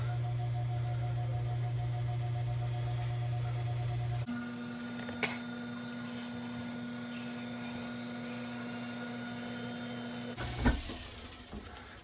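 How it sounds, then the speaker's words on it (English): A steady mechanical hum and whine of a Blomberg washing machine running a spin and drain cycle, shifting pitch partway through, with a couple of brief knocks; continuous and moderately loud. "I'm gonna go to the front of the washer and run a spin and drain cycle"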